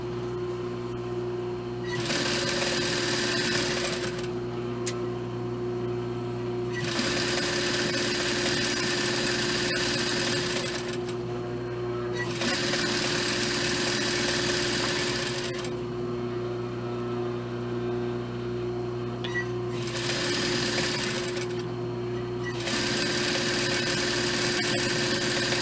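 A sewing machine runs through a dress seam with backstitching, in repeated bursts of steady whirring broken by short pauses, loud and close with no talk.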